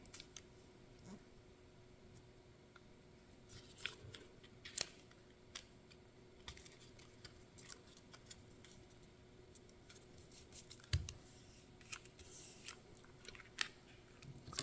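Scissors snip through paper and clear plastic pocket material in scattered, crisp cuts, some sharp and close, over a quiet background.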